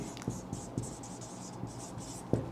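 Marker or chalk writing on a board during a chemistry lesson: short, rhythmic scratchy strokes and taps, fairly close and moderately quiet, with no voice over them.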